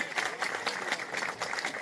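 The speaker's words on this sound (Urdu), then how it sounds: "ارے زوردار تالیاں بجانا میرے." Audience applause at a community gathering in Jalgaon, a short steady patter of clapping heard fairly faintly, with some voices mixed in.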